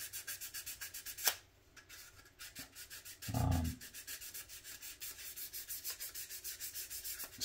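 Sanding the plastic body of an Atlantis 1957 Cadillac Eldorado Brougham model car, a quiet, close, rapid rhythmic rubbing scratch running throughout, with one brief louder scrape partway through.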